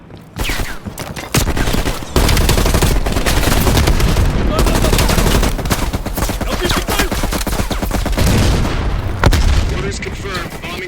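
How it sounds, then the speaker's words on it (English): Heavy machine gun fire rattles through a Call of Duty: Black Ops Cold War battle, long loud bursts of rapid automatic shots mixed with booming impacts and explosions, with a voice heard briefly over the din. "Heavy MG on the ridge."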